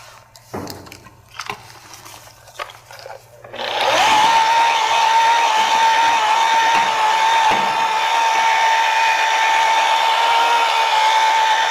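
Polishing pad buffing a marble counter with polishing powder: a few quiet knocks and handling bumps, then a loud, steady motor whine that starts abruptly and runs without a break.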